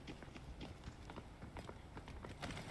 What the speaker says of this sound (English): Can hear a lot of footsteps